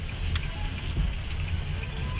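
Fairly heavy rain falls steadily outdoors during typhoon season, with a nearby river running high; a constant broadband wash of rainfall with low rumbling, no voices.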